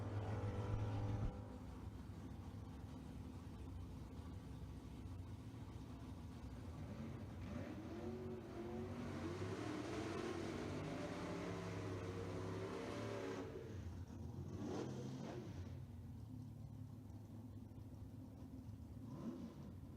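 A Plymouth Duster and a Chevrolet Camaro drag race at a strip, engines roaring from a distance, swelling into a loud rising run that fades away, then a fresh burst of revving and rumble.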